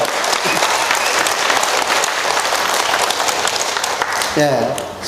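An audience at a health fair laughter-yoga lecture applauds the speaker, a full, even wash of many hands clapping throughout, with a brief voice rising near the end.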